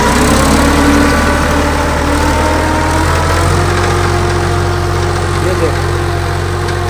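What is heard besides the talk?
old tractor engine running while ploughing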